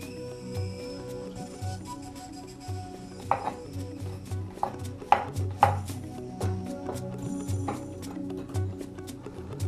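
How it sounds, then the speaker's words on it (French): A knife chopping vegetables into very small pieces for a Cameroonian mushroom egusi soup, steady rhythmic taps on a board with a few sharper louder knocks, close and alone. "il faut le découper en tout petits morceaux également"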